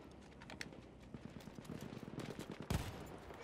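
Gunfire rattles in Battlefield 1, with rapid bursts of distant shots building through the clip and one sharp, louder report near the end.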